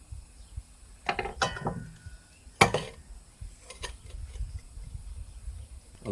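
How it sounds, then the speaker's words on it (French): Ratchet pawls on an over-greased Lewmar 8 sailboat winch click against the gear teeth, heard as a few scattered, quiet clicks and rattles at close range with no voices. "Ces petits cliquets qui empêchent le retour ici de l'engrenage"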